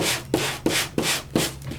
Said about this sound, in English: my Sand It gadget is hitting those spots. And it's sanding off a little bit of that shimmer